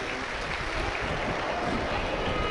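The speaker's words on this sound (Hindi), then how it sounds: "एक बार सभी के लिए जोरदार ताली बजाकर स्वागत, वंदन, अभिनंदन" Audience applause at a Shiv Mahapuran katha gathering, a steady dense wash of clapping from a crowd throughout, loud and continuous with a voice faintly mixed in.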